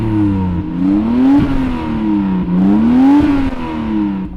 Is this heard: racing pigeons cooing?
no